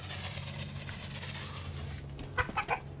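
Steady low engine-like hum throughout, then a short burst of quacking calls from nearby birds near the end.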